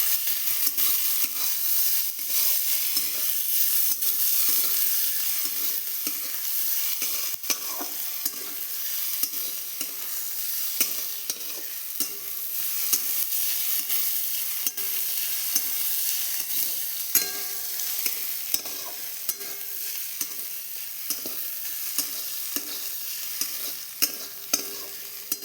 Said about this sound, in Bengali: এবার আদা রসুনটা দিয়ে একটু ভেজে নেব।